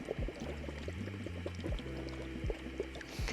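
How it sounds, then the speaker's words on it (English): Water pouring into a large pot from a tap, a steady splashing stream with gurgling rises as it fills, heard close with no talk. "I'm gonna fill it with water and put this onto the stove."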